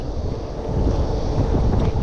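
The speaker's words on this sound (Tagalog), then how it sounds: "medyo mahangin po talaga" Strong wind buffets the microphone in a continuous low roar, gusting slightly louder toward the end, with no voices.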